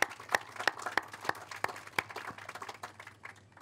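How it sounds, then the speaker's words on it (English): An outdoor audience at a mural dedication gives a round of applause, several sharp individual claps standing out over a softer, scattered patter that thins toward the end. "let's give them all one more round of applause"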